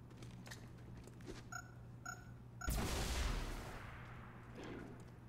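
A single burst of plasma weapon fire in the video game Chimera Squad erupts after a few short electronic beeps, a loud blast with a rushing tail that fades over a couple of seconds.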